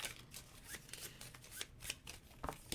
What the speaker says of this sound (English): You shuffle them up.